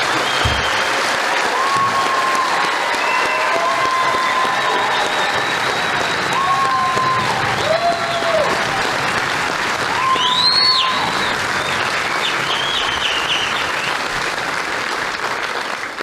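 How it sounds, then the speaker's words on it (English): Sustained applause from a large crowd at an Army basic combat training graduation ceremony honoring the soldiers, steady clapping for about sixteen seconds with scattered whistles and cheers rising around the middle. "Please join me in a round of applause for our soldiers,"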